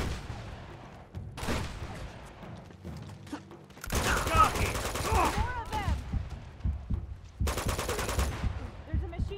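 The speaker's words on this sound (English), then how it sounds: "There's a machine gun over there." Bursts of machine gun fire from the video game Uncharted 2, loud dense rattling volleys in two long stretches with shorter shots between, mixed with other game sounds.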